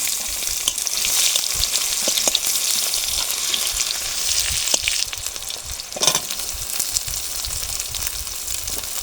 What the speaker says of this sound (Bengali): পেঁয়াজটা ব্রাউন কালার করে ভেজে নিয়েছি